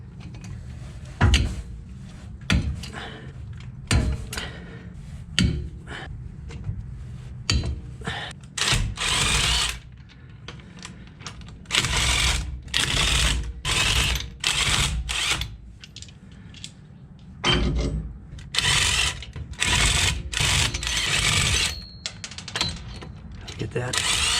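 Impact wrench with a thin-wall socket cracking loose wheel spacers on a vehicle during a locker install, firing in repeated loud bursts of rattling hammering with short pauses between them, with a voice heard at times.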